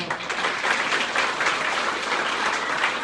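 A second round of thick applause from a seated crowd of students at a school farewell gathering, loud and sustained with no pauses, many hands blending into one steady wash.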